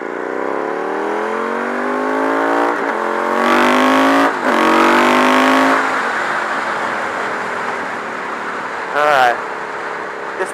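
A KTM Superduke motorcycle revs hard and accelerates through traffic, its engine note climbing in pitch through several gear pulls before easing off. Another vehicle passes briefly near the end.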